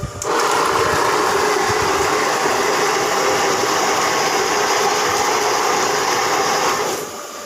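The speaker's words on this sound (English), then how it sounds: "The machine is connected to a power supply and switched on." A portable handy washing machine is switched on and runs, giving a steady, close mechanical whirring hum with a rattly motor drone that starts abruptly, holds evenly for several seconds, then stops, with no talk.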